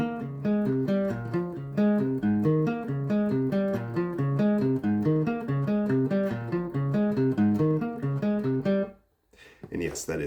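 An extended range guitar plays a fretting exercise in 3/4 time, with steady, clear arpeggiated notes ringing in a repeating pattern until it stops and a voice begins speaking.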